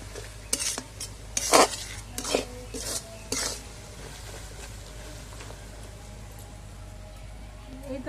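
Chili pickle stirred in a pan: a run of sharp scrapes and clinks of a metal spoon against the pan over a low sizzle, busiest early and then settling into quieter frying.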